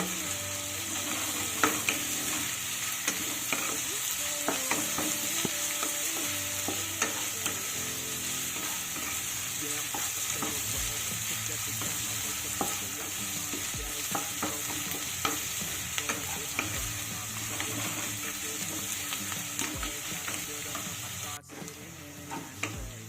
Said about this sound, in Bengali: দেখো পেঁয়াজটাকে কিন্তু আমি সুন্দর লাল করে ভেজে নিয়েছি